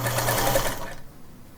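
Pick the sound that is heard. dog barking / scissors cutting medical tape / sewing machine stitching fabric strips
sewing machine stitching fabric strips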